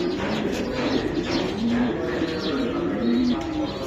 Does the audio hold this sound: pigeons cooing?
yes